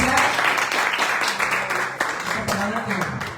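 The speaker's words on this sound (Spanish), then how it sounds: "Le damos un aplauso al Señor" A church congregation claps together in praise, with dense, fairly close applause that carries through the whole moment.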